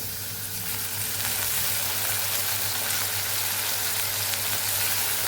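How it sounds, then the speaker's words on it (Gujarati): Ivy gourd stuffed curry in a Kathiyavadi style cooking in a pan over a low flame, giving a steady broad sizzle and hiss as a little water is added, constant and fairly loud with no talk. "તો અહીંયા આપણે થોડું પાણી ઉમેરશું કે જેથી કરીને આપણા ટીંડોળા સરસ પાકી જાય"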